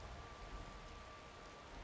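Quiet, steady rain falls in the Skyrim role-playing game, an even, faint hiss with no voices or other distinct sounds over it.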